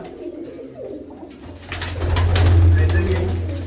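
Domestic pigeons in a flock coo from close by. A low, throaty, sustained coo swells through the second half over faint background rustle.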